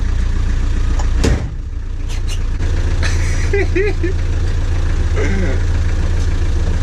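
An old Land Rover diesel engine runs in low gear with a steady, loud rumbling idle, a sharp knock early on, and people talking over it.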